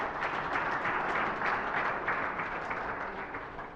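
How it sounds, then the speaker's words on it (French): A conference audience at an international colloquium applauds the chef in dense, sustained clapping that fades slightly toward the end. "Je voudrais que vous applaudissiez la chef pour cela."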